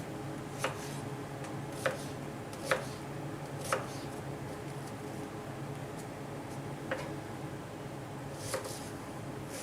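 A knife chopping an onion into pieces on a board, a handful of crisp, irregularly spaced cuts sounding close over a steady background hum.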